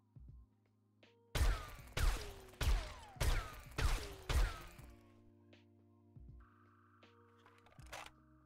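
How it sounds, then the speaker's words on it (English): Six sniper rifle shots from 7 Days to Die ring out in an even, steady rhythm, each a sharp crack with a short decaying tail, followed by quieter ambient tones and a faint click. "in this game, the sniper rifle isn't as loud as you expected"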